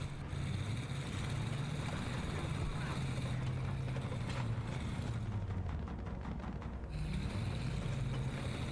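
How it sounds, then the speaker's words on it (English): Engine of a Bulldog tank in a video game, a steady, droning low rumble with a constant mechanical hum that holds without pause for nearly nine seconds, fairly quiet, with no talk over it. "all my tank crewmen are deaf from the engine sound of the Bulldog"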